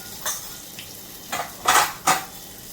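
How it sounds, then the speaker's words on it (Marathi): Asafoetida dropped into hot oil with mustard seeds, cumin, chilli and curry leaves for a Konkan-style sweet dal tempering, heard as a few sharp, close sizzle bursts and metal utensil clinks over a quiet kitchen background. "फोडणी हिंग टाकल्या"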